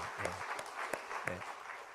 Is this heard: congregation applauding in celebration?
yes